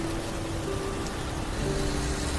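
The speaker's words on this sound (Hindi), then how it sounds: "ट्रक थोड़ा और आगे बढ़ा ही था कि बारिश तेज हो गई।" Heavy rain pours down in a steady, dense hiss that fills the scene at constant loudness, with no voices.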